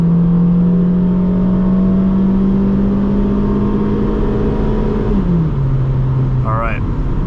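A 2001 Honda Civic LX launching hard, its tires briefly spinning, with a steady engine drone climbing to redline before a gear change drops the pitch, loud and continuous from inside the car.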